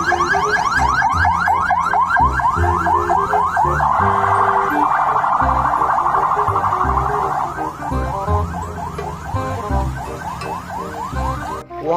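A pink toy ambulance plays its electronic siren, a loud, rapid, warbling wail that repeats steadily for several seconds before faltering and stopping, with faint thumps of handling underneath.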